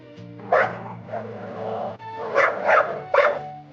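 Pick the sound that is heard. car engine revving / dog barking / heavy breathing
dog barking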